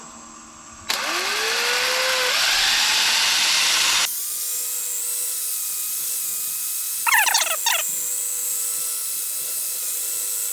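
A drill-driven sanding pad spins up on a laburnum and copper inlay, a loud steady whine for a few seconds, followed by a quieter hum and a short burst of scratchy rubbing.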